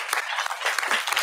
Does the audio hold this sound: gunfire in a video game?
no